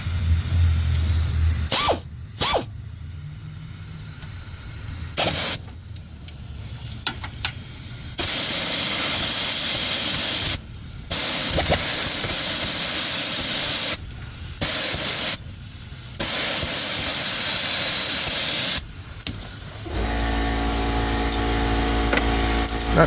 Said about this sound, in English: it's going to give us a chance to try out our new ratchet